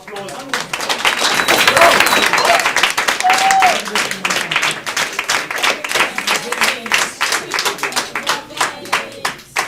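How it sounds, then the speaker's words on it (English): A campus audience gives a long, loud round of applause with dense, continuous clapping that thins toward the end, with some voices and cheers underneath. "Ladies and gentlemen, again, just a round of applause."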